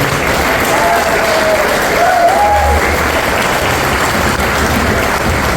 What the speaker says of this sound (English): Let's hear it for all the past inductees, folks. Big round of applause, man.